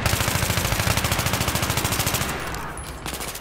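Automatic weapon fire in Battlefield 3, a steady rapid burst of loud, evenly spaced shots that runs for about two and a half seconds and then fades into quieter shooting.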